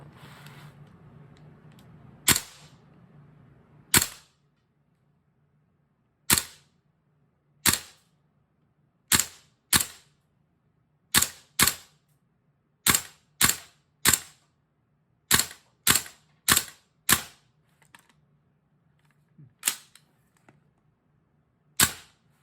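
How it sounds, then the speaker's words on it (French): An airsoft rifle firing in a VFC versus Viper Tech comparison, about fifteen sharp, close snapping shots spaced one to two seconds apart over a low hum, with near silence between them. "Laissez-moi tirer le fusil comme une façon droite à la place pour améliorer le vue sur la culasse et le fusil."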